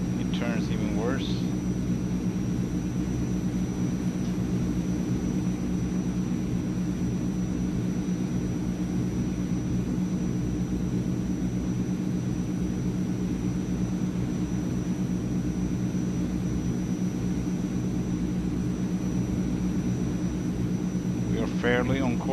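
A Transall C160 military cargo plane drones steadily in Microsoft Flight Simulator, a continuous low engine rumble throughout, with a person talking over it.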